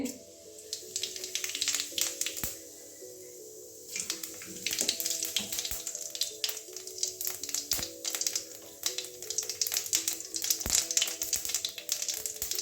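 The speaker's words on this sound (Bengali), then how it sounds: "বন্ধুরা তেল গরম হয়ে গেছে আমি আর মাছের ডিমটা ভাজবো না একবারে কষিয়ে নেব ফোড়নে গোটা জিরে দিয়ে দিচ্ছি" Whole cumin seeds hit hot oil as tempering for a Bengali rohu fish roe dish, giving a close, steady sizzle with frequent sharp crackles and pops throughout, over a soft sustained tonal background.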